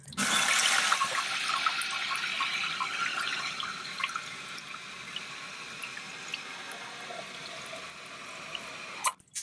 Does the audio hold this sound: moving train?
no